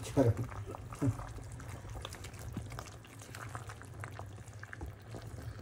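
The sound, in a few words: pot of pork sinigang broth boiling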